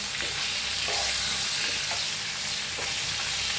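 Stuffed green chillies fry in a pan with a steady, dense sizzle and crackle that holds at an even level throughout, with no voices.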